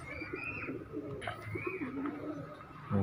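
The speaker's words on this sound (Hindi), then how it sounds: "काफ़ी तादाद में पिजन है, कबूतर वगैरह है" Pigeons at a mini zoo coo softly in low, rolling bursts, with some faint chirps and background hum, no speech.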